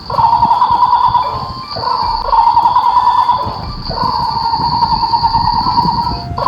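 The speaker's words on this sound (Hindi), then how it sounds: "तो बच्चों, हॉर्नबिल की साउंड जानते हैं?" A hornbill calls in loud, drawn-out nasal honking bursts, three long bouts separated by short breaks, close and clear with no talking.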